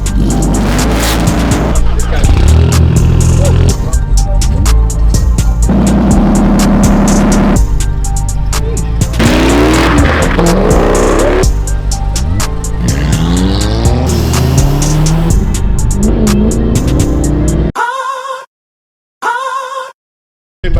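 A car at a car meet revs hard, very loud and close, its engine roaring and rising in pitch with tire squeal, then cuts off as people speak briefly near the end.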